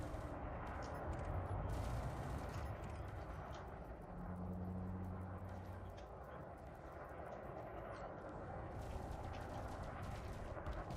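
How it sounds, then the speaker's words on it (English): Gunfire in the space combat game Elite Dangerous, a continuous rumbling barrage of weapon fire with rapid crackling bursts, steady and fairly loud throughout. "Some shooting going on right here."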